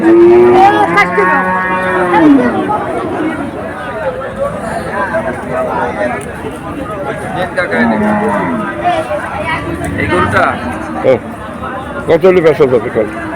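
A cow moos loudly near the start at a cattle market, then more lowing follows amid a busy crowd of people talking and general market bustle.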